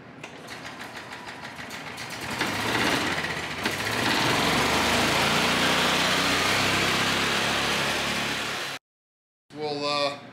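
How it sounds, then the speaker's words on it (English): A junkyard golf cart engine running close by, a loud, buzzing, rapid high-pitched drone that rises and holds steady, then cuts out abruptly before briefly starting again. "we got the cart running"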